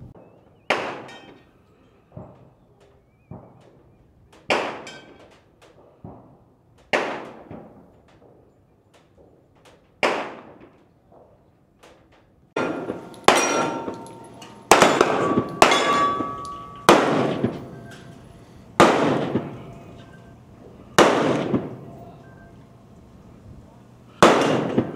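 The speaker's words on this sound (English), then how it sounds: "Some of the shooting right out here. Rifle." Rifle and handgun shots ring out at an outdoor shooting range, the Clark County Shooting Complex in Las Vegas, Nevada: sharp, irregular cracks, some mid-distance and some closer and louder, each with a short echoing tail.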